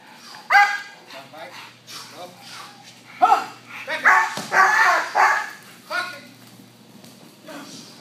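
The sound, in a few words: protection dog barking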